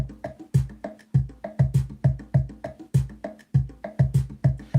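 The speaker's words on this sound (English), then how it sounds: "bongos and you just randomly place them on a sequencer." Percussion hits and bongo-like drums, randomly placed on a sequencer, play in a busy, uneven repeating pattern of punchy low thumps and sharper slaps, loud and close with no voices.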